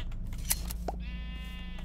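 A sheep in the Minecraft video game gives one short bleat, clear and nearby over a steady low background hum.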